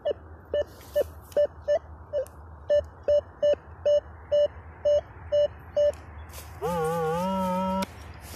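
A metal detector sweeping a cleared forest floor gives a steady run of short, evenly spaced beeps, then a longer wavering warbling tone that cuts off abruptly, fairly faint against quiet background hiss.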